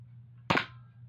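A Nerf sniper blaster fires with a single sharp, close snap over a low background hum.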